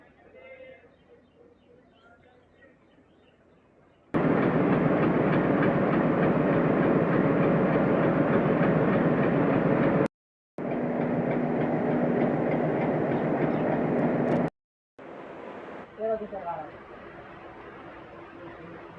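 An Indian train locomotive pulls away from Lalitgram after reversing ends, giving a loud, steady rumble of rolling wagons with clattering wheels that breaks off briefly, plus faint bird calls in the quieter stretches.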